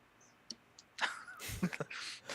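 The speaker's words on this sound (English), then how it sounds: "the producer literally sneezed right next to my face" A sudden sneeze bursts out close by after a couple of faint clicks, followed by a short breathy exhale.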